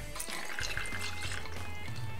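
Triple sec flows into a cocktail glass for a Chilltini, a brief close pour with a bubbling trickle lasting about two seconds over faint music.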